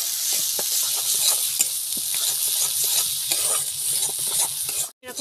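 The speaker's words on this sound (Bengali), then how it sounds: "সবগুলো এভাবে আমি ভালো করে কষিয়ে নেব।" Ginger garlic paste with salt sizzles and fries in hot oil in a pan, a steady crackling hiss with occasional stirring scrapes, close and continuous.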